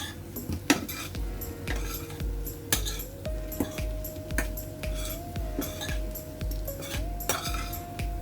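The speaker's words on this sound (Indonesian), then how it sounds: "Nah kita aduk-aduk begitu sampai semua sausnya itu tercampur rata ya." Utensil stirring salted egg chicken sauce in a metal pan, repeated scraping and clinking strokes at an uneven rhythm, close and fairly quiet, with a faint sizzle beneath.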